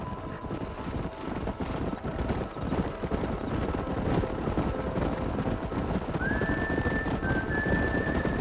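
Continuous rumbling hoofbeats of horses at a gallop in the video game Red Dead Redemption, with a high whinny rising near the end.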